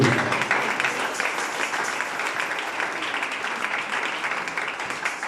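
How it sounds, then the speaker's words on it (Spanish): A church congregation breaks into full, continuous applause; a dense wash of many hands clapping at once, loudest at the start and holding steady throughout, with no voices over it. "¿Cuántos dan un aplauso al Señor Jesús?"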